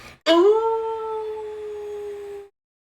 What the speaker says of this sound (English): In the distance, you will also hear more howling, but it is far off.